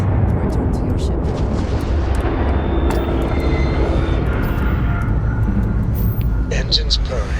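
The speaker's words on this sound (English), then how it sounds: "Engines purring." A spaceship's engines in Starfield roar in a loud, steady, broadband rumble with a deep low end, filling the whole stretch alongside a voice talking.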